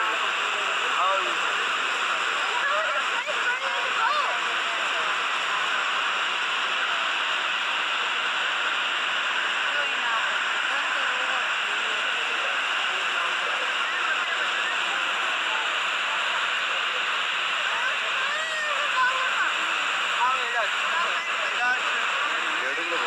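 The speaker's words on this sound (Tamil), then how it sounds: "இங்கே அந்த நயாகரா ஃபால்ஸில் விழுற தண்ணியை பார்க்குறேன்." Steady broadband roar of Niagara Falls water pouring down, heard from a boat on the Canadian side, a constant dense wash with no clear breaks throughout.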